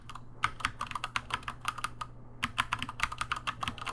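Typing on a computer keyboard while writing notes in the Obsidian notes app, with close, rapid key clicks in irregular bursts and a brief pause near the middle, over a low steady hum.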